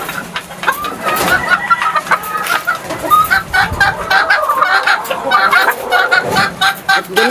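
Chickens cluck busily at afternoon feeding time, close and loud. Overlapping clucks and squawks continue without a break, with an occasional crowing note mixed in.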